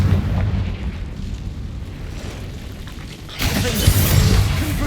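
Repeated Confringo fire-spell explosions in the video game Hogwarts Legacy, set in a cave: a low rumbling roar that swells into a loud, bright burst of blasts near the end.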